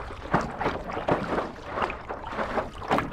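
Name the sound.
paddle board paddling through water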